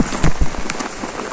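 Steady rain falls on a hill-station market street by a closed paddle boat centre at dusk in Nainital, a dense broadband hiss with scattered close drops and taps throughout, no talk.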